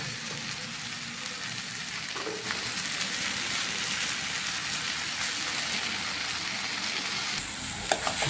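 Fenugreek chicken gravy fries in a pan with a steady, close sizzle and crackle, a constant hiss with occasional small pops and a light stir near the end.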